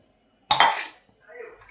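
An iron griddle pan is handled in a home kitchen, giving one sharp metallic clank with a short scraping rattle, then a faint voice.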